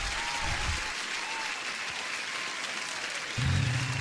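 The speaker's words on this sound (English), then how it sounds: "Arin, let me give you a support applause" A short burst of crowd applause plays as a sound effect, dense, steady clapping heard clearly throughout at moderate volume.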